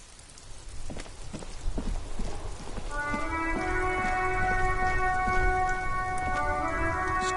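Steady rain patters and drips in the video game Disco Elysium, scattered drops at first, then a sustained tonal musical drone swells in and rides over the rain for the rest.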